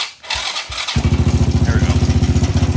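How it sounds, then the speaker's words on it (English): Full suspension lawnmower engine starting: a few cranking pulls, then the small engine catches and settles into a fast, loud, even chugging idle, close by. "Okay, I'm gonna see if I can get it going without the camera real quick. All right, fire it up."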